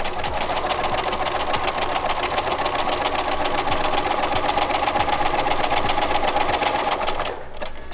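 A home sewing machine runs steadily as it stitches a seam finish, a loud, even mechanical whir with a fast rhythmic needle chatter that continues unbroken, then drops off abruptly at the very end.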